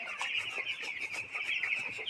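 Broiler chickens on a poultry farm, a dense, continuous chorus of many birds clucking and peeping together, steady and moderately loud with no voices.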